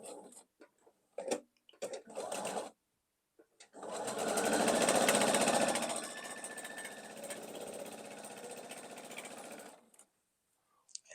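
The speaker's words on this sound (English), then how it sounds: "let's sew into our scrap, and I can show you what this looks like" A sewing machine stitches a pieced triangle quilt block, running steadily for several seconds after a few short starting bursts, then stopping.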